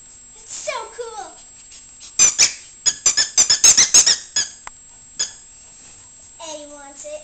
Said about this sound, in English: Oh, it squeaks? That's so cool.